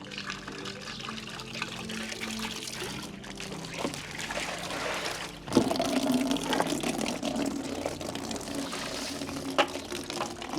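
Water is poured and strained in a continuous trickle and splash. The flow grows fuller and louder partway through, with faint background sounds.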